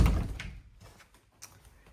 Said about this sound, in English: and the bifold closet doors.